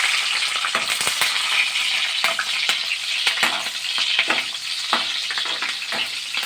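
Green chillies fry in hot oil for tomato rice, a loud, close, continuous crackling sizzle broken by sharp spits and pops, with occasional scraping stirs and no voices.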